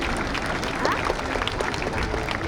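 At the Jesolo Air Show an outdoor audience applauds, with steady scattered clapping, a few voices underneath and faint whistling tones.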